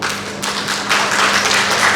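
An audience claps steadily through a short burst of applause at a commemorative address, a dense, even patter of hands without pauses.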